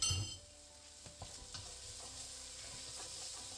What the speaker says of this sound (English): Then we add our garlic.